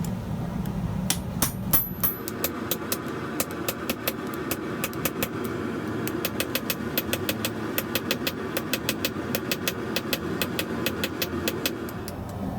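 A hammer forges a small steel rod on an anvil with a long run of sharp, ringing metallic strikes in quick steady rhythm, close and loud over a constant low engine-like hum from nearby machinery.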